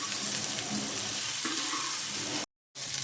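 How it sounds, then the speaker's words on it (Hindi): Beef fries on a tawa in its own fat, with no oil added. A loud, steady, close sizzle runs almost without a break, stopping only briefly near the end before it resumes, and no one speaks. "जो इसकी चिकनाई है इसी में ही ये आसानी से रोस्ट हो जाएगा। इसको फ्राई करते रहेंगे हम।"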